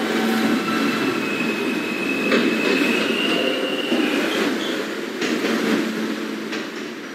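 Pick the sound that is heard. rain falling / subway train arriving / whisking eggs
subway train arriving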